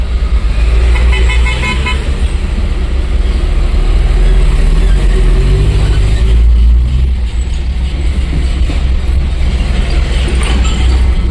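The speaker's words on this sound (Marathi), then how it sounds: "गाड्या येतच आहेत" Vehicles on a steep mountain ghat road between Agumbe and Goa pass close by, a loud continuous engine rumble punctuated by horn toots.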